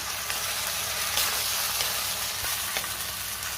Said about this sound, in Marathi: पुन्हा छान 2 ते 3 मिनिटं मी व्यवस्थित परतून घेणार आहे हे वाटण